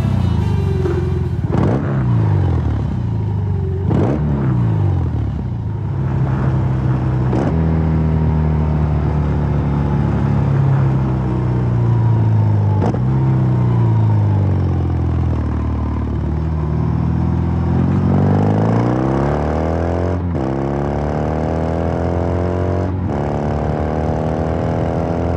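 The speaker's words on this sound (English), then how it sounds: "While we might be split on the looks of the exhaust, it does sound pretty good." BMW R 18 motorcycle exhaust, close and loud, idling with a deep rhythmic burble and repeatedly blipped into sharp revs that rise and fall back, with no talk.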